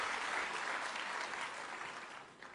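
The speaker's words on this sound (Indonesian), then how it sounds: "Tepuk tangan buat Tuhan Yesus." Applause from a church congregation during a worship service: steady clapping from many hands. It is fairly faint and distant, fades slightly toward the end, and has no clear speech over it.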